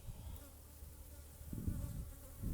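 Honey bees swarm around an opened hive in a savanna apiary, giving a soft, steady droning buzz that swells slightly in places, with no talking.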